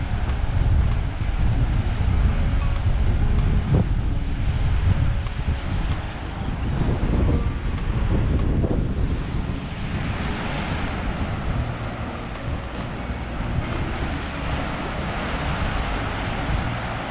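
A river flows near Hengifoss in Iceland as a broad, steady wash of rushing water, loud and continuous, mixed with wind buffeting the microphone.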